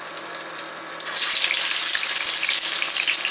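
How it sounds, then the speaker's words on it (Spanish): Zucchini slices hitting hot oil in a pan, a sudden loud, steady hissing sizzle that starts after a second of quieter background noise and continues evenly, with no talking. "ya que se calentó el aceite, pues vamos a comenzar a dorar nuestras calabacitas"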